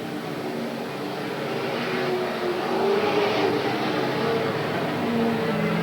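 Race cars roar around Willamette Speedway in 1987, a continuous engine drone that swells as cars pass nearer and fades again, with no voices heard.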